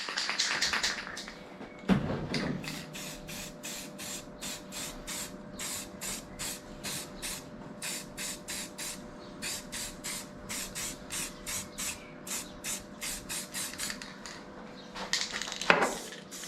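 Aerosol can spraying paint onto a repaired classic Mini dash rail and bulkhead in a workshop: a long series of short, rhythmic hissing bursts close by, with a clunk near the start and a louder hiss at the end.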